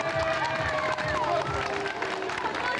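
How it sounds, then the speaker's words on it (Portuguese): A crowd claps and cheers for councillor João Rica at a 1997 motorcycle club ride event, steady applause filling the moment with voices mixed in. "Uma salva de palmas para ele, por favor."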